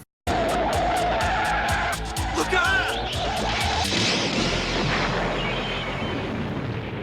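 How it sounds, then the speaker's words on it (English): Car explosion scene from the 1980s anime OVA Metal Skin Panic! MADOX-01, with rapid sharp impacts at the start, then a loud booming blast and rumbling roar that lingers, joined by tire-like squeals and a shouting voice. "the animation of that car explosion"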